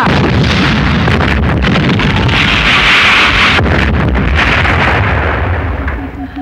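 A bomb goes off in a comedy film scene, producing a loud, sustained roar of blast and rumble that fills the whole stretch before it begins to fade at the end.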